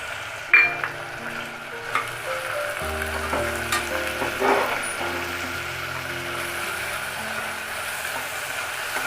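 Onions sautéing with salt and turmeric for tomato rice, a continuous loud sizzle with a few sharp spoon scrapes and taps near the start and middle.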